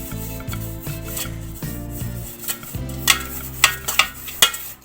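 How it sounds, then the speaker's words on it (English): Soft rubbing and scraping as oil or margarine is spread around a cake pan for a vanilla cake, steady strokes with a few sharper clinks toward the end, over low background music. "Greasing, you're just applying some oil or margarine."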